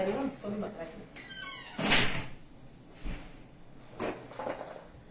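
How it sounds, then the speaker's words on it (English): A door swings shut with a thunk while someone speaks in an indoor room, one brief knock standing out between her phrases. "have to close my door."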